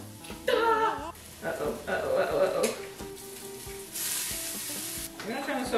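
Garlic hits a very hot sauté pan and sizzles sharply, a bright hissing burst under intermittent talking and a few stirring clatters, close and moderately loud.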